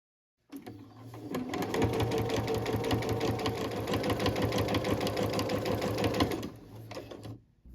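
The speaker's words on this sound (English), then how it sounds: "Sew down the center using your stitching lines." Sewing machine stitching a cotton tote bag, starting up and running a steady, fast mechanical whir with rhythmic needle clatter for several seconds before slowing and stopping.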